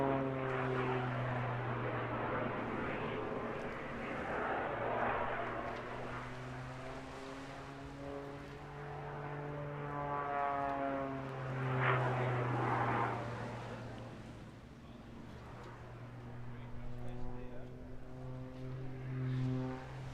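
A propeller aerobatic plane performs at a seaside airshow on the English Riviera, its engine drone rising and falling in pitch as it sweeps past, moderately distant and sustained throughout.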